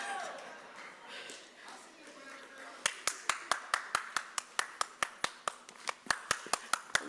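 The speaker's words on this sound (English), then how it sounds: "We're going to clap up Ms. Genesis Johnson onto the stage, my people." At a Black student graduation ceremony, a speaker's voice and faint crowd murmur give way to a run of sharp, evenly spaced hand claps, loud and close, about two per second to the end.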